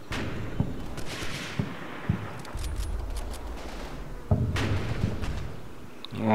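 Mortar fire from an artillery battle plays out as a series of sharp, distant thumps and bursts spread unevenly across the clip, with scattered clatter between the blasts and no talk.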